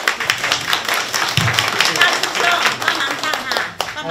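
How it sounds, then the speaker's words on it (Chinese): Audience clapping at a church Christmas concert, brisk hand claps running throughout with voices talking over them. "来，给掌声。"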